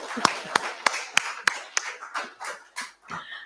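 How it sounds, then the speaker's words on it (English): A single person claps his own hands at an agribusiness strategic plan launch, with about six sharp, evenly spaced claps up close, followed by softer irregular sounds and faint murmuring as it trails off. "Let me clap for myself then"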